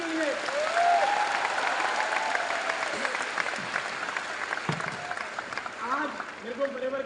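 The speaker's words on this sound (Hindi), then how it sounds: "प्लीज जोरदार ताली हो जाए मेरी" A crowd claps loudly and steadily at a Delhi business success day event, the applause running throughout while an amplified voice keeps speaking over it.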